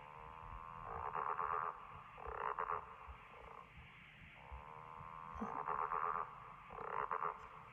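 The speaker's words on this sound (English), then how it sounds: "Let's listen to a frog sound right now." Repeated rasping frog croaks, each a drawn-out pulsing burst with short gaps between, close and distinct with no other sounds.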